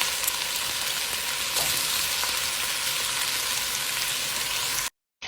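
Shrimp with onion fry in a hot pan, a loud continuous sizzle with faint stirring ticks, close and alone, cutting off abruptly near the end.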